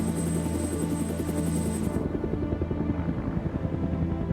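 A helicopter flies overhead, its rotor producing a steady, rhythmic low thudding that runs continuously throughout at a moderate, even loudness.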